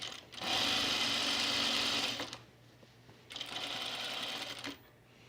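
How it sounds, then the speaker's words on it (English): A sewing machine back stitches at the top of a blouse placket with a small stitch length, two close, loud bursts of fast mechanical whirring separated by a short quiet pause, the second burst slightly shorter. "we're gonna back stitch at the top"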